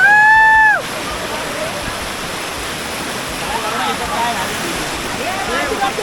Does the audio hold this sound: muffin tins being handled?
no